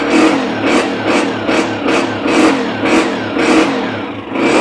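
A kick-started motorcycle with a freshly loosened throttle race cable revs hard and repeatedly at close range, roughly one loud surge every half second, its engine note rising and falling in a steady pulsing rhythm.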